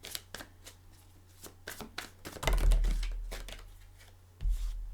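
A deck of tarot cards is shuffled close by, with quick riffling flicks and soft slaps building into a louder riffle, then a pause and another shuffle.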